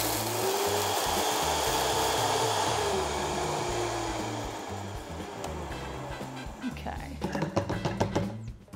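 A blender on high speed grinds cauliflower into fine crumbs, a loud steady whirring roar that fades toward the end, followed by clattering and a voice.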